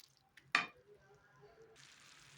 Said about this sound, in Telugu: బాగా కలుపుకోవాలి